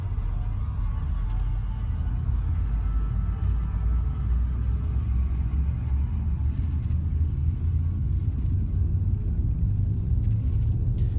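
The frame shift drive in Elite Dangerous charges and jumps as a steady, loud, low rumble that holds unbroken throughout, with a faint hum above it and no voices.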